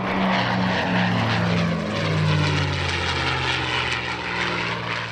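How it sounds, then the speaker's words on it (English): A North American XP-82 Twin Mustang, a twin-fuselage prototype F-82 long-range escort fighter, flies past at the EAA AirVenture Oshkosh airshow with a loud, continuous propeller-engine drone that shifts pitch as it passes. "this aircraft is the XP-82 Twin Mustang"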